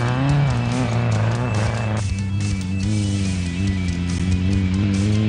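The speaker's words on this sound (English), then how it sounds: "Some more sideways action by Andre Vermeulen Jr. in the little 1600 buggy that he built himself" A self-built 1600 off-road racing buggy slides sideways at the Lichtenburg 200, its engine droning loud and steady close by, with the pitch rising and falling and faint tyre scrabble underneath.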